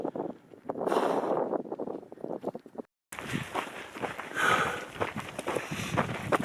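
Desert wind buffeting a runner's microphone during a Marathon des Sables stage, a steady broadband rush with footsteps and gusts, continuing after a brief dropout.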